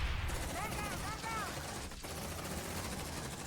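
Gunfire crackles in bursts through a dense, loud battle in the video game Aliens: Dark Descent, layered with game effects and voices calling out over the shooting.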